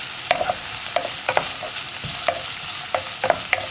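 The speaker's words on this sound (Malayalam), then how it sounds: "ഇത്രയും ചേർത്ത് നന്നായിട്ടൊന്ന് വഴറ്റിയെടുക്കാം." Onion and curry leaves sauté in a hot pan for a lentil and potato curry: a steady sizzle runs underneath while a spatula scrapes and taps the pan in repeated sharp strokes, close and clear, with no talking.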